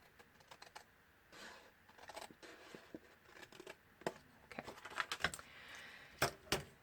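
Scissors snip through a paper craft piece in a short run of sharp, crisp cuts, quiet and close, with the louder snips near the end and no talking.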